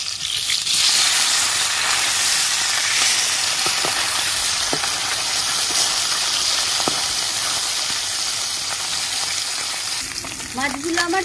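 Small live bata fish fry in oil in a pan, giving a loud, dense, constant sizzle with a few clicks as the pieces are turned over. A voice briefly begins at the very end.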